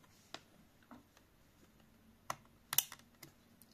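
Quiet scattered clicks and handling noises, then a sharp distinct snap as a Samsung memory module latches into its slot, close up.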